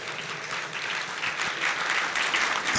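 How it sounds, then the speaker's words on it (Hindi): Steady, dense audience clapping at a Jain religious discourse gathering, a continuous wash of many hands throughout with no voices. "तालियों में दम नहीं है"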